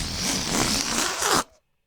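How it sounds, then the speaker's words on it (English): Air rushes noisily out of a balloon in a harsh, sputtering hiss lasting over a second, then stops suddenly, leaving silence. "That's the sound of all the air coming out of a balloon."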